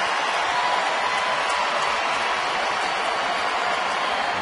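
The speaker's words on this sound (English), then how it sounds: "Crowd greeting the Astros as they come back home." A large baseball crowd at a Houston ballpark cheering and applauding as the Astros return home against Atlanta, a dense, steady wash of noise from many people.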